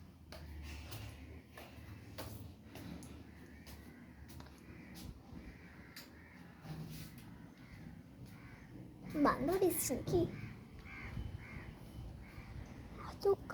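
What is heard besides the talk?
many crows cawing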